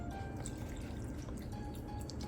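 Sorrel juice from soaked fruit pours steadily onto fruit for sorrel fruit cakes, a soft continuous trickle and drip that stays close and even throughout.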